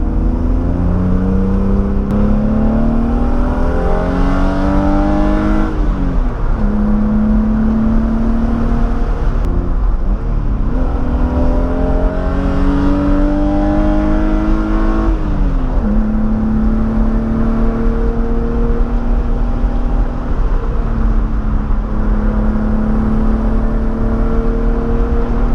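A BMW M3 engine revs hard and climbs up a steep, curving mountain road, repeatedly rising through the gears with brief drops between shifts. It is loud and close throughout, with no talking.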